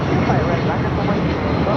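A Delta Boeing 757 airliner takes off at LAX, its engines giving a loud, continuous broadband roar throughout, with someone talking over it.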